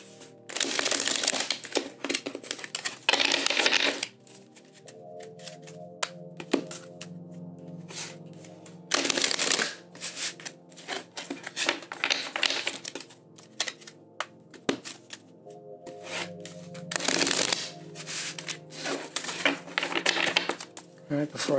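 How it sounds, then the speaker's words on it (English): Tarot cards shuffled by hand in repeated bursts of crisp riffling and crinkling, close and fairly loud, separated by quieter pauses with soft handling noise, three shuffles in all. "We're going to do 3 shuffles and get into the energies for this week."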